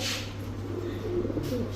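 Soft, low cooing from male pigeons repeats over a steady background hum, close by and fairly even in loudness.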